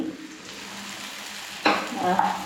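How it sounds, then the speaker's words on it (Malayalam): Oats batter poured into a hot pan: a low background hiss, then a sudden loud sizzle as the batter hits the metal, which keeps crackling and bubbling steadily afterwards. "അങ്ങനെ ഞാൻ ഇത് പാനിലേക്ക് ഒഴിച്ചു കൊടുക്കുകയാണ്"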